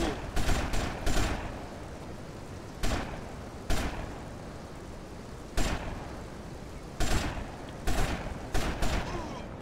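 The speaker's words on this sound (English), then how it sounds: "I shot him in the leg to death." AK rifle fire in the video game GTA Liberty City Stories: short, sharp bursts of shots come in uneven clusters, some doubled or tripled, loud over a steady background hum.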